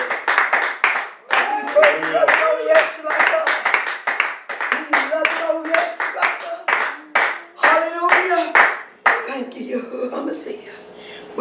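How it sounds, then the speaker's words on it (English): A church congregation claps in praise during a lively worship service, steady rhythmic clapping continuing under loud voices calling out over it. "Come on, give him some hand clap of praise."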